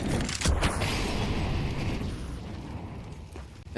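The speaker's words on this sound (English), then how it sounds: "an exchange of flaming hot Molotovs and incendiary grenades." Molotovs and incendiary grenades going off in a competitive video game match, heard as a loud rumbling burst followed by a sustained roaring, crackling fire wash that slowly fades.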